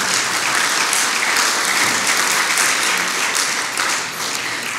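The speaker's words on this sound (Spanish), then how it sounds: "Un fuerte aplauso para estos jóvenes que siguen llegando" A church congregation applauds young people arriving during a sermon, dense steady clapping throughout that tapers slightly near the end, with no talk over it.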